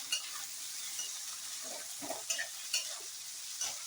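Mixed vegetables stir-fried over a high flame for veg fried rice, with a steady hiss and sizzle and a few sharp scrapes and clinks of the spatula against the pan.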